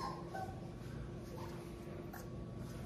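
A three-week-old Boerboel puppy whimpers close by, giving a few soft, thin whines and yips that sit just above a steady, hissy background hum for a few seconds.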